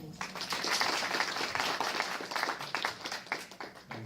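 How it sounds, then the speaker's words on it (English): An audience at an energy security science lecture claps for the speaker, loud and dense applause that carries on steadily with no talk over it. "The audience, please do give the doctor a round of applause."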